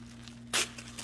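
A single quick, bright rustle of tissue paper being pulled from a subscription box, standing out against a low steady hum.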